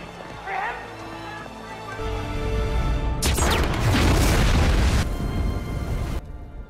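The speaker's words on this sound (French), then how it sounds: "the Capitol dropped those bombs to defend the palace" Bombs explode in a Hunger Games film scene as the Capitol bombs the area outside the palace. A tense musical lead-in gives way to a sudden loud blast and a long rolling roar that cuts off abruptly.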